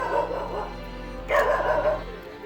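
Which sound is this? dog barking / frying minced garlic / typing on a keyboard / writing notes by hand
dog barking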